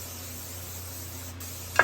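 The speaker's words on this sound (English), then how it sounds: "I'm gonna spray it with some non-stick oil" Non-stick cooking oil sprays from a can into a pan, a steady, even hiss that lasts nearly two seconds and ends with a brief louder puff.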